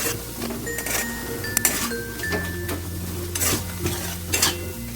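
Steady scraping stir of prawns and potatoes being mixed with salt, chilli, sugar and spices in a pan, with light sizzling and occasional spatula clinks against the metal throughout.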